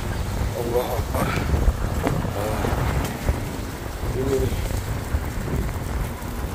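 Strong storm wind and rain in Mecca roar steadily and loudly close to the microphone, with gusts buffeting throughout while someone speaks over it.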